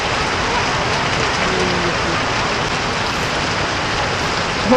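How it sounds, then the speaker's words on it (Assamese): Heavy rain pours steadily on surfaces outdoors, a loud, even hiss that fills the whole stretch, with faint voices underneath. "পূৰা বৰষুণত ভিজি গ'লোঁ"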